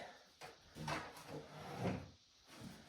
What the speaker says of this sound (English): Get my chair out of my way here.